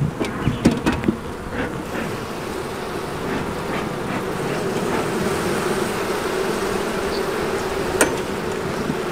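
Honeybees drone in a hive around an emerged queen cell, a close, continuous buzzing with a few brief knocks and taps near the start.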